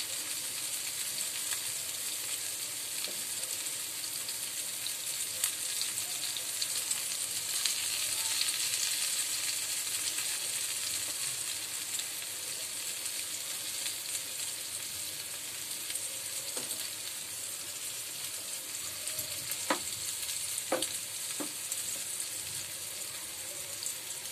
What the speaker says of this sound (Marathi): व्यवस्थित फ्राय करणार आहे। आपल्याला गॅस अगदी मंद ठेवायचं आहे.